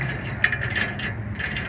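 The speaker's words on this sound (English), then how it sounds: "this is a 19 millimeter wrench that we are using" A 19 mm wrench tightening the lugs during a P-50 assembly, giving a steady mechanical ratcheting and clicking with a few sharper ticks, close and fairly loud throughout.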